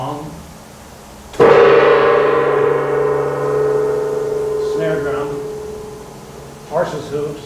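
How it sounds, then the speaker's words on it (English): A gong in the percussion chamber of a 1928 Wurlitzer Fox Special theatre organ at the Fox Theatre, St. Louis, struck once and ringing with a long, slowly fading shimmer, followed by faint mechanical knocks. "Gong."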